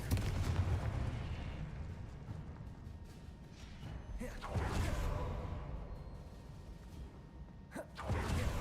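Confringo fire spell cast in the video game Hogwarts Legacy: two sharp, explosive whooshing blasts roughly four seconds apart, loud over a busy rumbling game background.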